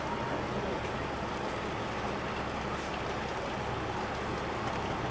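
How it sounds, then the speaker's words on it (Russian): Steady rain falls outdoors on a foggy morning in Lazarevskoye on the Black Sea coast, an even, continuous patter and hiss heard at moderate distance with no voices. "Дождь, дождь, дождь."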